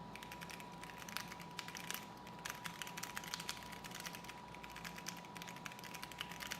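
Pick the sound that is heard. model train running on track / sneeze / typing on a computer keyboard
typing on a computer keyboard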